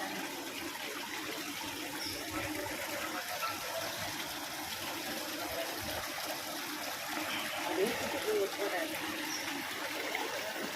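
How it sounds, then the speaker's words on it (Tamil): Water pours steadily into a large tank at a hotel, making a continuous rushing, splashing wash that holds at an even level throughout, with voices faintly audible beneath it. "அப்படியே தண்ணி பாருங்கள், நல்லா இருக்கு."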